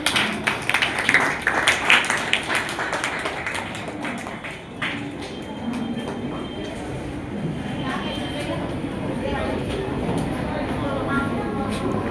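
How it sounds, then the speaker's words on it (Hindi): Applause and clapping from a school audience welcoming a participant at an inter-house Hindi debate competition, a dense crackle of hands that is strongest at the start and then settles into a steady wash. "जोरदार तालियों से इनका स्वागत किया जाए।"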